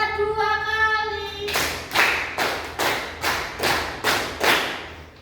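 A room of training-course participants claps in unison, about eight evenly spaced, loud, crisp claps in a steady beat, following a brief spoken cue.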